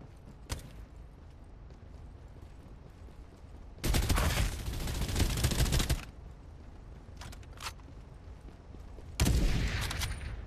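A mobile battle royale game plays gunfire in two loud bursts of rapid shots, with a few brief single cracks between them over a quiet background.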